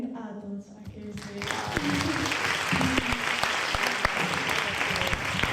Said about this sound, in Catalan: anem a dar un fort aplaudiment a tots aquests